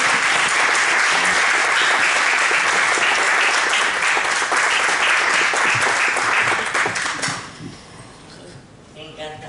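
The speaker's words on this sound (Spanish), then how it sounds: "Otro aplauso para él." Warm audience applause closes a book presentation, a dense wash of clapping that fills most of the clip and then tapers off, with some voices mixed in.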